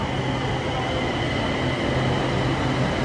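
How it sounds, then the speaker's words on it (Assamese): A metro train arriving at a station in Bangkok, giving a steady, loud rumble of rolling carriages with a faint low hum throughout and no talking. "আহি গ'ল মেট্ৰ' আমাৰ আহি গ'ল"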